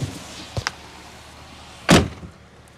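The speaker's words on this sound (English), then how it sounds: "So shut the door." A car door on a 2007 vehicle slams shut once, a loud close thud after a couple of fainter clicks from the handle or latch, with no talking over it.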